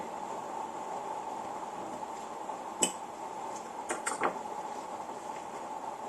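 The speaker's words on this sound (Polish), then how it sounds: "Analogicznie wrzucamy sobie blokadę bębna" Metal parts clink softly as the cylinder lock is dropped into a Remington 1858 revolver, a couple of brief close clicks and taps over a steady background hiss.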